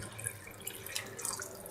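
Water, about 1.5 liters, pouring into a cooking pot for chicken pasta, a steady, fairly soft splashing trickle with small drip-like accents that runs without a break from start to end, with no voices.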